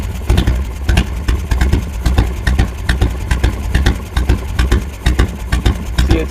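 A motorcycle engine with an S&S carburetor idles nearby while its air and gas mixture screw is adjusted, a loud, lumpy, rapid beat of firing pulses throbbing steadily throughout, with no voices.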